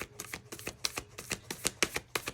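Tarot cards being shuffled to draw one more card: a rapid run of crisp riffling slaps and papery flicks, close and fairly soft, with no voices.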